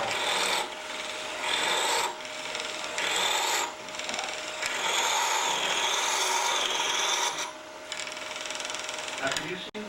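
Rasping bursts of a lathe tool driven like a drill into wood end grain, with several scraping passes separated by brief quieter gaps, close and fairly loud.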